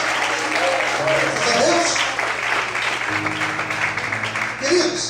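Applause from a church congregation during a worship service, a broad, steady wash of clapping running throughout with voices and a low sustained tone underneath.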